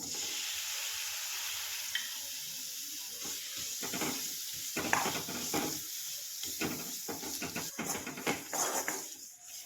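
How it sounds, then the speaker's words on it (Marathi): Jaggery melting in ghee in a pan for til chikki sizzles softly while a spoon scrapes and stirs in repeated bursts that grow busier and louder toward the end. "आपल्याला एक सारखं फिरवत राहायचं आहे."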